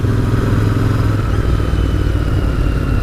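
A Royal Enfield Interceptor 650 motorcycle is being ridden, with its engine giving a steady, loud low rumble throughout and a faint clatter mixed in, without talk.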